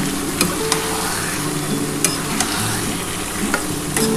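Mutton is stirred and fried with spices for a Bengali potato mutton kosha, giving a steady loud sizzle throughout with occasional scraping clicks of a spoon against the pan, close up and without talk.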